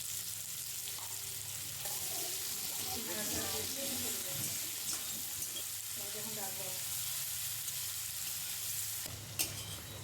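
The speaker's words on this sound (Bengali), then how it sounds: "এখন আমি পেঁয়াজগুলো ভাজবো।" Sliced onions fry in hot oil tempered with cumin and bay leaf for a shrimp and bottle gourd curry, a steady close sizzle with stirring throughout while someone talks over it.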